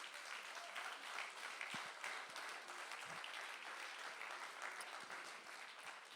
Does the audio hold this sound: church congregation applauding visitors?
yes